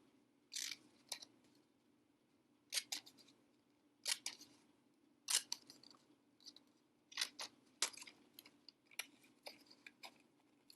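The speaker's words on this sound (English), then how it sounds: "Then carefully cut out each one of these words" Scissors snipping through paper while word cards are cut out, a series of short crisp cuts in irregular bursts with brief pauses between, close and fairly quiet with no talking.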